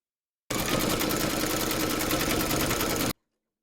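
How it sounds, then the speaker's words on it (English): Embroidery machine satin stitching silver thread around the belly edge of an appliqué teddy, a steady fast buzzing hum that starts abruptly, runs for about two and a half seconds at close range, then cuts off cleanly. "Load your thread colour for the satin stitching around the edge of the belly into your machine, and then stitch round number 6"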